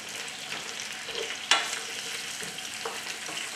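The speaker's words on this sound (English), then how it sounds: "Now turn that flame back up and let's give them a fry for about 5 minutes" Baby artichokes fry in olive oil in a pan for an Italian family dish, giving a steady, close hiss with one sharp crackling pop midway and a few softer spits.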